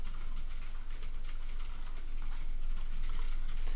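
Rapid clicking keystrokes on a mechanical keyboard, a continuous, fairly close rattle of taps with no talking.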